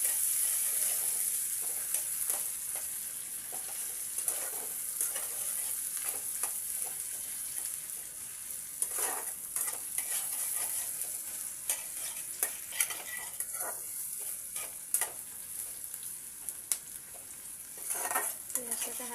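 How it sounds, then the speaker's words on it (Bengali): Chopped onions frying on high flame in a pan, with a continuous close sizzle broken by repeated scrapes and clinks of a spatula stirring against the metal, no voices over it. "পেঁয়াজটাকে হাই ফ্লেমে ভাজতে হবে।"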